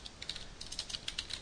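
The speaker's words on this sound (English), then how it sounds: "And then we'll just go ahead and start typing our code in here." Computer keyboard typing while code is entered, a quick, irregular run of light key clicks close by, alone with no voices.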